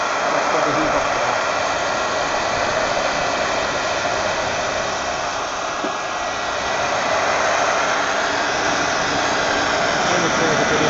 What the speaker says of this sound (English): I'm going to heat her up another little bit with a heater and heat the box